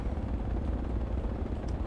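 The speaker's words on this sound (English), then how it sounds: "Look at all them helicopters!" Steady rotor and engine drone of helicopters in the military video game Project Reality, a continuous low rumble that holds at one level throughout.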